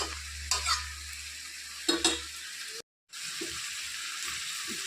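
Mutton sautés over medium heat with a soft sizzle, and a spoon stirs it in a couple of brief scraping bursts. The sound is close but fairly quiet and cuts out briefly near the end.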